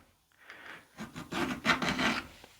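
A hand file rasping along a metal edge during sharpening practice, a series of rough strokes that build in loudness, close up and alone with no talk.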